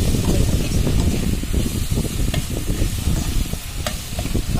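Tomato paste and browned garlic frying in a pan, a loud close sizzle with irregular scraping stirs running throughout, no talking.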